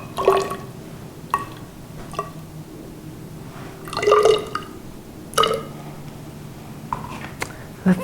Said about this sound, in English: So we are going to pour 30 millimeters into a smaller beaker.